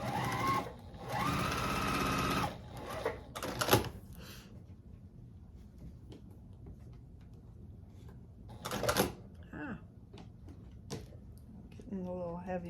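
A sewing machine stitches white one-inch quilt pieces for an Urban Cabin quilt block in two loud bursts, each a couple of seconds long. Quiet handling noises and a short whirring sound come in between the bursts.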